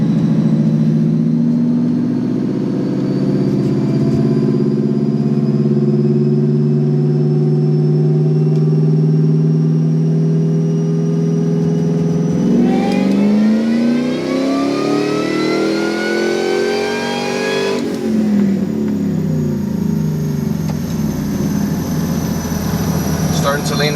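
A car engine on a dyno during a tuning pull at 14 psi boost, running loud and steady, then climbing sharply in pitch through a hard rev before dropping and rising again.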